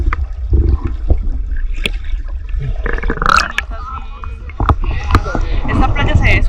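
Sea water splashes and sloshes close by at a small, rocky Santorini beach, with irregular bursts of water noise mixed with people talking.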